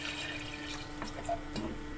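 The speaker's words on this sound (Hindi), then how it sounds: "अब हम इसके अंदर डाल देंगे पानी।" Water is poured into a pressure cooker sitting on a lit gas stove, a soft, faint splashing and trickling with low background hum.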